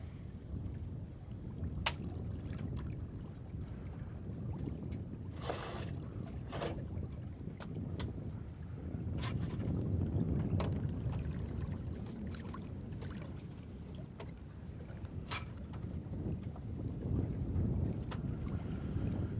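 Freedom 40/40 sailboat Laxmi underway under sail in moderate wind, with a continuous low rush of water along the hull and wind buffeting the microphone, plus occasional sharp knocks and creaks; no talking.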